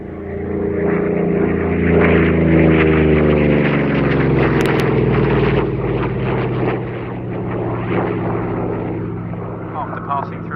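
Goodyear-built WWII fighter aircraft, a 1945 licence-built warbird, flying at a Duxford flying day: a loud, steady propeller engine roar with a droning whine that slowly shifts and fades slightly, under a commentator speaking over a public address.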